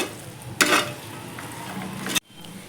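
Vegetable biryani masala being stirred in a pan, a close sizzle with a sharp scraping burst of stirring near the start and a sudden stop toward the end, alone without talk.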